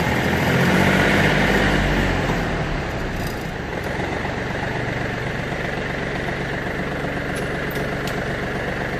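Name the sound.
tractor diesel engine running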